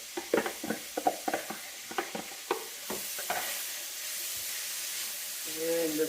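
Chopped leeks hit a hot pan in a basic home dinner and sizzle with a burst of clatter and scraping, then settle into a steady, close hiss of frying with no talk.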